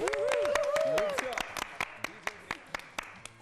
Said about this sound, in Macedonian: Може да го дадеме аплауз?